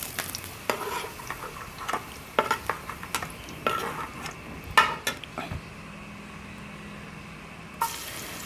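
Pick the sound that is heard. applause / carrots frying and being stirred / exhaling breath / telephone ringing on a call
carrots frying and being stirred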